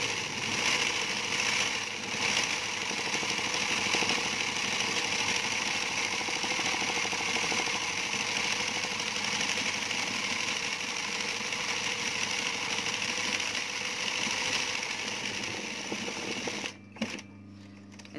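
An embroidery sewing machine runs on an open rooftop, a steady close mechanical whir and rapid stitching hum continuing without pause until it stops near the end.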